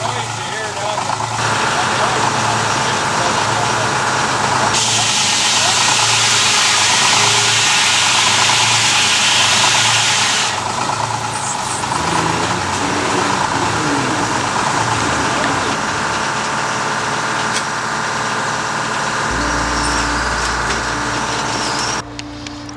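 A Detroit diesel engine at a sawmill runs steadily throughout, a loud low rumble with a broadband roar, its pitch shifting slightly near the end before cutting out.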